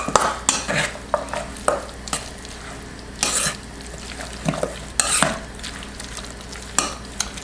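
Chicken salad being mixed in a bowl, repeated scraping and clinking strokes of a utensil at close range, irregular bursts over a quiet background with no talking.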